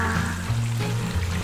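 Boneless chicken thigh deep frying in fresh peanut oil heated to 325°F, a close, steady bubbling sizzle with a low hum underneath.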